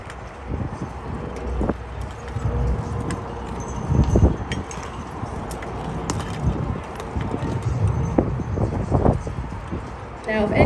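Clydesdale horses' hooves clip-clop on pavement while pulling a wagon in a street parade in Salado, Texas, irregular clops mixed with crowd chatter and general outdoor bustle.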